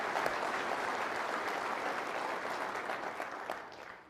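Sustained applause from a conference audience honouring corporate and military awardees, a thick, steady roar of many hands clapping that holds for several seconds before easing off at the end.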